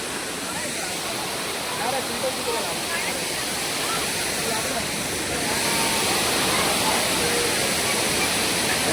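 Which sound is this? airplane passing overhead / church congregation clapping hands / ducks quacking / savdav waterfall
savdav waterfall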